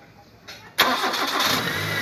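Proton Gen2 car engine, just back from a fuel pump repair, cranks briefly then fires up loudly and settles into a rough, steady idle close by.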